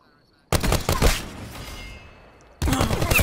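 Sustained automatic rifle fire from the VAPR-XKG in Call of Duty Black Ops 4 multiplayer, a loud dense burst lasting about two seconds before breaking off, then a second burst starting right after a brief gap.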